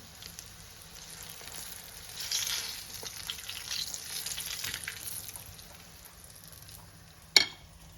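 Steady, soft sizzling of cheese pancakes frying in a pan, with faint crackles and a brief sharp clatter near the end.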